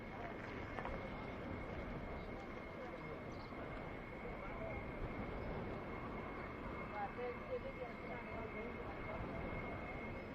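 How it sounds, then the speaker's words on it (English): A pair of F-15 fighter jets taxi at RAF Lakenheath, producing a steady, broad engine roar that holds without letup, with voices talking faintly over it. "So we have a bit of taxiing. We've got a brace of, yeah, 2 F-15s."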